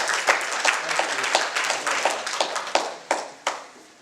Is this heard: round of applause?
yes